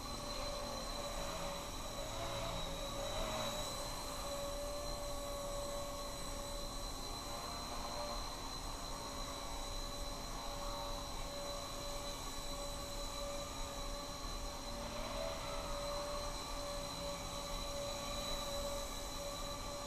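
A Blade Nano CPS micro RC collective-pitch helicopter hovers indoors, its motor and rotors making a steady, even high whine for the whole stretch with no talking.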